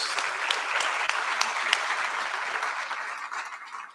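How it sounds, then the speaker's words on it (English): An audience at a public talk and dialogue event on identity, place and space breaks into applause, a dense, steady clapping that runs loud throughout and fades slightly at the end, with no speech over it. "Let's give him a round of applause."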